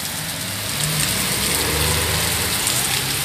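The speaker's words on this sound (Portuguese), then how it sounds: "Choveu, granizo aí por uns poucos segundos aí pra vocês verem, gente." Heavy rain mixed with brief hail pours down steadily in Maringá during a strong storm, a dense, loud hiss of drops on surfaces with a low engine-like rumble underneath.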